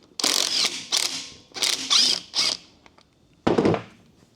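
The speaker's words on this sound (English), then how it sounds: "All right, so I'm going to get this front wheel off." A ratchet or wrench clicks in close, loud bursts while the front wheel is removed from a Yamaha BWS 100 scooter. There are five or six separate rattling bursts with brief pauses, and no one speaks.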